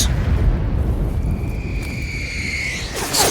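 A booming Metal Gear Solid explosion rolls out as a loud, low rumble that fades away, a sharp burst near the end.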